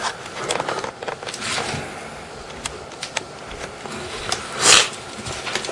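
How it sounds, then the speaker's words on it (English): Someone with a cold sniffles a few times, quiet and close, with one sharper sniff near the end among faint clicking handling noises of a toy. "you may hear some sniffling."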